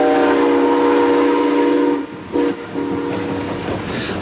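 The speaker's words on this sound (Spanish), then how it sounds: "este tren está pasando a buena marcha" A train rushing past at speed, heard loud and close with a steady, tonal rumble that briefly drops out before resuming more roughly, with no talk over it.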